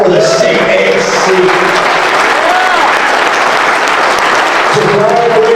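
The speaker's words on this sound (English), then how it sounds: "I want to give a round of applause again for the CAC." Audience applause fills a Cauliflower Alley Club awards event honoring the Men's Wrestling Award, steady and loud throughout with crowd noise and a few raised voices under it.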